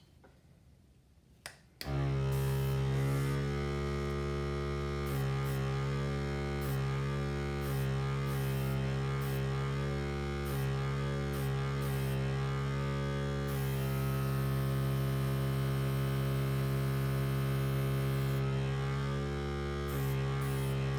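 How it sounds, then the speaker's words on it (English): An airbrush for painting on a small canvas kicks on abruptly, then runs as a loud, steady, humming drone with an airy hiss, broken by a few brief changes as spraying starts and stops. "Alrighty, time for the airbrush."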